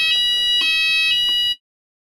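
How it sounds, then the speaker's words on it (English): A fire alarm sounds indoors at a panel event, a loud, piercing electronic tone pulsing about three times before cutting off abruptly into silence. "the fire alarm."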